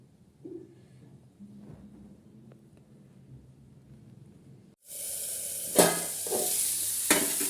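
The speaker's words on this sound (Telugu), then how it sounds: "ఇదిగోండి తాలింపులోను అరటికాయ ముక్కలు వేసేసాను." Raw banana pieces dropped into hot tempering oil and stirred: a quiet stretch, then a sudden loud, steady sizzle with a couple of sharp stirring scrapes, close and alone.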